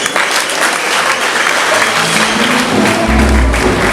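Wedding guests applaud loudly at a ceremony, a dense, sustained burst of clapping from a crowd that stays strong throughout, with a low rumble rising near the end.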